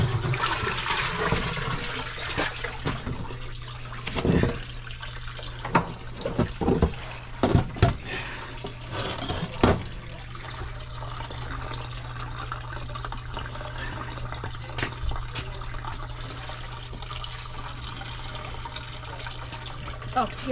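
A clogged commercial sewage ejector pump moves water with a rushing, gurgling flow, plus several louder splashes and knocks early on. A steady low hum runs underneath the whole stretch.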